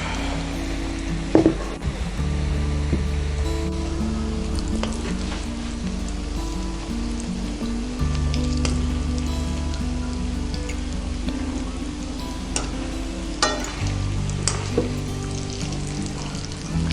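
Yam balls coated in egg and dry ingredients fry in hot oil with a steady, crackling sizzle, punctuated by a few sharper pops and clatters as they are turned.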